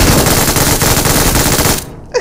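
Rapid automatic gunfire in the mobile game BGMI, a loud, dense continuous burst that stops suddenly, followed by a brief quieter sound.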